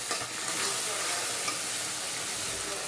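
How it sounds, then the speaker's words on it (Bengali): Small fish fry in a pan, giving a steady, dense sizzle that stays loud and even throughout, with faint stirring scrapes mixed in. "দেখো গুঁড়া মাছ রান্না করতেছি।"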